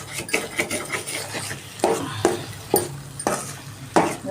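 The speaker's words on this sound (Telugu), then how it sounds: "ఇలా కలుపుతూ ఉండాలండి బాగా. సిమ్లో పెట్టుకోవాలి స్టవ్" Egg and amaranth leaves dry-roasting in a pan are stirred with a spoon, producing rhythmic scraping strokes against the metal roughly every half second over a faint background crackle, with no talk.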